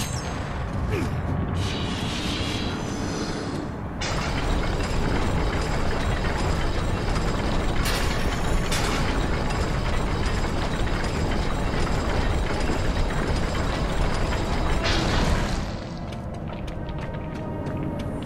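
A crank mechanism turns in God of War: Chains of Olympus, a loud, sustained grinding mechanical rumble with a few sharp clanks that runs through most of the stretch before easing off near the end.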